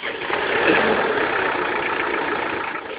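A diesel engine on a generator or machine fitted for a product demo runs steadily at idle just after starting, a dense close rumble holding level for about three seconds with no speech over it.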